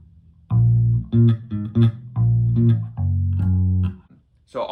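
An electric bass guitar plays the bass line of a song alone and up close, with short, punchy low notes in a syncopated pattern separated by brief gaps.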